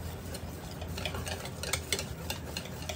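Red-tinted puto cheese batter is stirred in a bowl, a soft continuous scraping and sloshing with a few brief clinks, close and steady with no voices.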